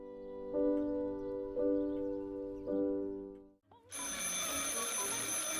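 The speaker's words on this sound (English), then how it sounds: "한 통의 전화가 걸려오고" A telephone rings in the horror video game Martha Is Dead, three loud, evenly spaced bell rings, close and clear. After a brief silence, a dense, loud burst of sound takes over.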